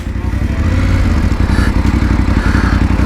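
A motorcycle engine drones steadily and loud while riding through the streets of Melilla, with a close, constant mid-pitched rumble and some clatter throughout.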